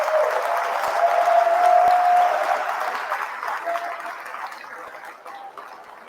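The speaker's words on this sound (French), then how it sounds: "je vous demande d'applaudir" An audience at a political speech breaks into sustained applause, a broad, dense wash of clapping that swells and then slowly fades, with scattered crowd voices mixed in.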